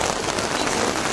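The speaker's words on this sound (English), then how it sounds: "It is raining." Heavy rain at Glastonbury festival patters densely on a nearby surface, a loud, continuous hiss throughout the brief moment.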